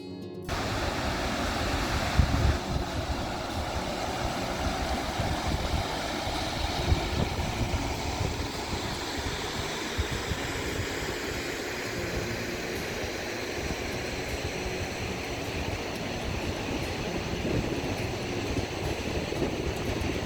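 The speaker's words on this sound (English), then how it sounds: "watch the Tuolumne River, gently babble its way down the hill" The Tuolumne River in Yosemite rushes downhill, a steady, broad wash of flowing water heard close and constant without breaks or voices.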